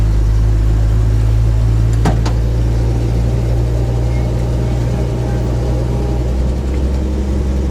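Loud, steady low engine idle from a 1955 Ford hot rod truck warming up on manual choke, a constant deep droning hum with a couple of brief clicks near the start.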